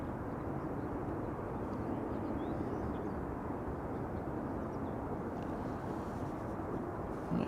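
A Qatar Airways Boeing 787 Dreamliner airliner arriving at Amsterdam Schiphol Airport, heard as a steady, fairly distant broadband jet roar that holds evenly throughout with no talking.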